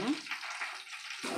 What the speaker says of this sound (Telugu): నూనె ఈ విధంగా బాగా కాగిపోయింది. నేను ఒక్కోటి ఈ విధంగా వేసేసాను.